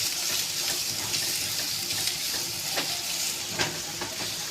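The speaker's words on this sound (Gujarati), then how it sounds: "ગરમ મસાલો રેડી હવે તેને ચમચા વડે હલાવી દેવાનું છે" A steady sizzle of frying chillies and onion as garam masala is stirred in, with spoon scrapes and light clinks through it, continuous and close, with no voices.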